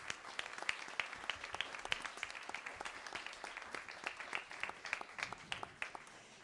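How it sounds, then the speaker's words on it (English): Applause from a congregation at a Sunday church service, many hands clapping in a steady, dense patter that stays fairly even across the clip, with a few sharper claps standing out near the listeners. "So give them a round of applause."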